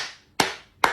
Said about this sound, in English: We all have to keep clapping for our honorable, ordinary president.